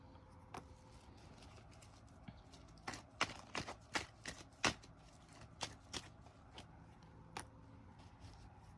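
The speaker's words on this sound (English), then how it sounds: "Let me pull some cards out here and see what we got going on." Tarot cards being shuffled and handled, soft faint flicks and slaps arriving in irregular clusters, with a few sharper riffles in the middle, quiet and close with no talking.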